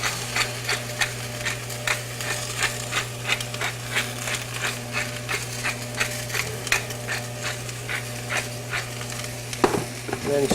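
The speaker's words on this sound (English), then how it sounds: "And then stir it around a little bit more." Zucchini, summer squash and minced garlic sautéing in a pan, a steady sizzle over a constant low hum, with rhythmic, evenly spaced scrapes and taps of the spoon stirring throughout.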